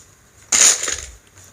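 A Hot Wheels toy car crashes on its plastic playset, making one sudden close clattering impact that fades quickly, with no talking.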